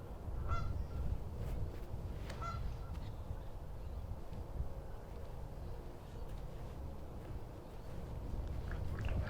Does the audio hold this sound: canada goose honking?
yes